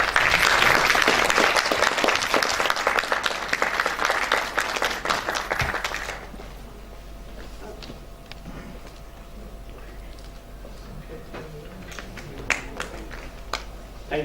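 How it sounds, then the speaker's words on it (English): A yoga seminar audience gives a round of applause, loud, dense clapping for about six seconds that then stops, leaving quiet room tone with scattered faint taps and movement. "Kindly give a round of applause."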